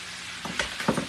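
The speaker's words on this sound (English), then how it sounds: "Show them what you're doing, frying taters." Potatoes fry in a pan with a soft, steady sizzle in a home kitchen, joined by a few quiet clinks and stirring scrapes near the end.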